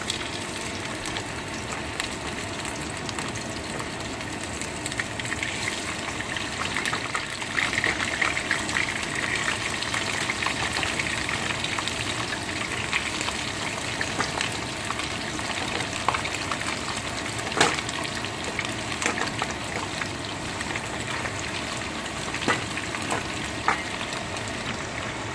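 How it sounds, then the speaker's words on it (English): Meat frying in heated oil for oven-baked jollof rice, a continuous dense sizzle and crackle holding steady for the whole stretch with no talk. "Our oil is all heated up now, so we're gonna start frying our meat."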